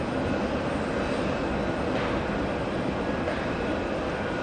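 A JetBlue jet bound for Houston departs JFK runway 4 left, giving a dense, continuous engine roar at a steady moderate level with no voices over it.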